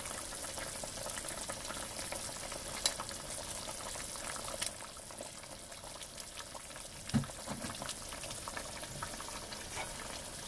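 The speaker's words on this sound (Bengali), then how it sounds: "এই দেখেন ঝোলটা ফুটে আছে, এবার আমি মাছটা ছেড়ে দেবো।" Fish curry gravy simmering in a pan, a steady soft bubbling and sizzling hiss running throughout at low volume, with a few faint clinks and taps of utensils.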